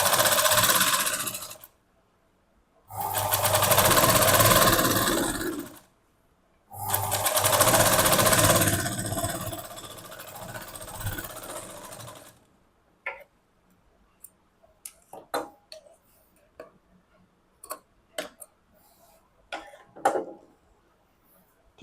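A sewing machine stitching a blouse yoke runs in several steady bursts of a few seconds each, then gives way to scattered light clicks and ticks of handling near the machine, with no talking.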